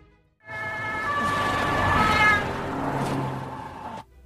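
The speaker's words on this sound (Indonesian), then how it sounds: "Tak lama ia mendengar suara ambulans dan membawa Henry ke rumah sakit." An ambulance siren in a film scene sounds out steadily as a wailing, tonal alarm over several seconds, with a mixed background and no speech.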